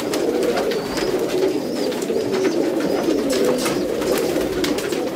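Rampuri pigeons, a Pakistani breed, coo steadily and close by, their low rolling calls continuing throughout with faint higher chirps over the top.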